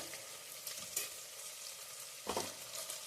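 Thick-cut onions and red chillies frying in a pan for Kannada-style avarekalu saaru, with a steady soft sizzle and two brief louder bursts as the pan is stirred.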